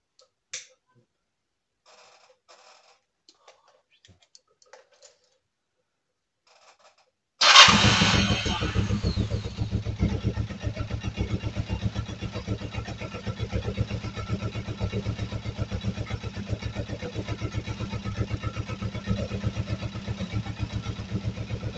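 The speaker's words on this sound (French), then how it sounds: "je vais démarrer la moto" Kawasaki ER-5 motorcycle engine: after quiet clicks and faint handling noises, it cranks and fires abruptly into a loud, steady, throbbing idle that continues close by for the rest of the clip, with no talking.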